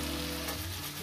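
Ginger, turmeric, cumin and coriander powder frying in a pan with tomato, a steady close sizzle with a brief stirring scrape at the end.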